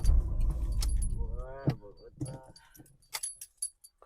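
Keys jangle loudly up close, then fade into a few scattered rattles and clicks as someone fiddles with a vehicle that won't start; brief voices are heard, with no engine catching.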